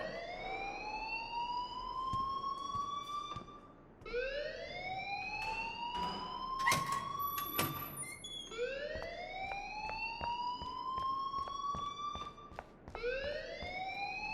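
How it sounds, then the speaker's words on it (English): A school alarm in the video game Life is Strange wails loudly in repeated rising sweeps, each climbing and holding for a few seconds before restarting, with no talking. "please turn off that alarm since that's your job"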